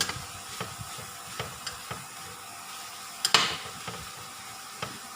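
Shrimp sizzle steadily in a hot pan while a utensil stirs them, giving repeated light scraping knocks against the metal about every half second and one sharper clatter midway.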